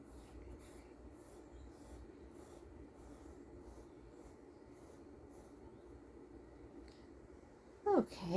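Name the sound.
pencil drawing a line on paper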